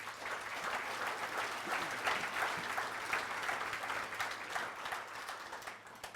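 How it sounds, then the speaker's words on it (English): Audience at a USA Softball of Michigan Hall of Fame awards event applauds its sponsors, a steady, moderately distant round of clapping that holds evenly throughout, with no speech over it. "If we can give them a round of applause."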